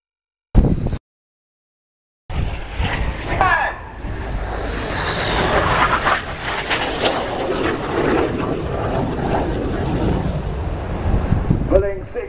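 Red Arrows jets of the Royal Air Force flying an opposing 360-degree crossing manoeuvre at an air display, a loud roaring jet rush that builds and holds after a brief gap, with faint speech underneath.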